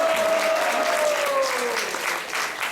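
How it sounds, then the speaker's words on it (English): A crowd at a Sunday Snan Yatra event at the ISKCON temple in Atlanta gives a round of applause, with steady, full clapping throughout and a faint tone sliding beneath it. "Let's give her a big round of applause"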